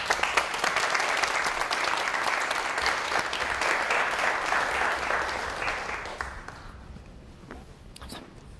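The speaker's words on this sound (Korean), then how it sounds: "한번 박수로 한번 드립니다" An audience at a church music symposium breaks into sustained applause welcoming a speaker, steady and full for several seconds before tapering off into scattered claps and faint shuffling.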